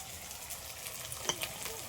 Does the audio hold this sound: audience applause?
no